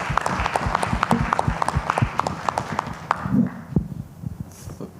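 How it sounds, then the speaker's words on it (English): Applause from a crowd, dense overlapping claps that thin out toward the end, fairly close and loud. "I'd like to ask for a round of applause"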